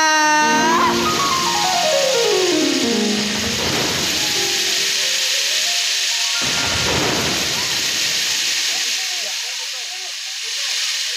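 Loud thunderstorm sound effect in a Sambalpuri comedy stage play: a long hissing roar like heavy rain, with descending tonal sweeps and two deep rumbling swells, close and sustained throughout.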